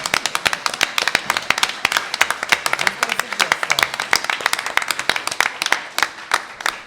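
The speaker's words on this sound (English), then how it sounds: "I think you should give yourself a round of applause." An audience at a mayoral forum claps in a dense, steady round of applause lasting several seconds, close and loud, with a few voices mixed in.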